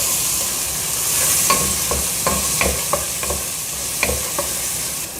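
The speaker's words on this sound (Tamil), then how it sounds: "அது ரெண்டையும் போட்டு கொஞ்சம் வதக்கிடலாம்." Onion and garlic sizzle steadily in a hot pan while a utensil scrapes and stirs, giving a few sharp clicks against the metal.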